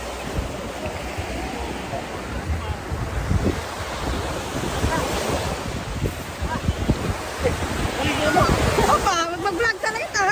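Ocean surf washes ashore at White Beach in Bohol, a steady broadband roar with wind buffeting the microphone, while voices chatter nearby toward the end.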